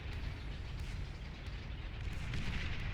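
Bombing run explosions in the strategy game Beyond All Reason, a continuous heavy rumble of overlapping blasts and booms, dense and low, fairly faint, with no pauses between impacts.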